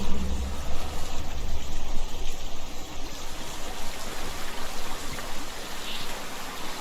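Flowing water in the video game Hellblade: Senua's Sacrifice makes a continuous rushing, trickling wash over a low rumble, steady throughout with no voices.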